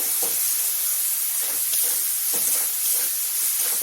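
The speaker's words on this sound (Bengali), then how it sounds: "পেস্ট বানানো হয়ে গেছে দিয়ে দিচ্ছি কিছুক্ষণ ভেজে নেবো ভালোভাবে" A spice paste for kochu data, a taro stem dish, sizzles and spatters in a hot pan, a loud, continuous hiss with small pops and crackles throughout.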